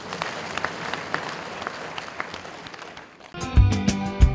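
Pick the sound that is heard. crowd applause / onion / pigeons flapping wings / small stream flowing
crowd applause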